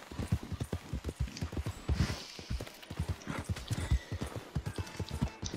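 A horse gallops in the Red Dead game, with a fast, steady run of hoofbeats pounding close and clear across the whole stretch, mixed with light clatter of tack.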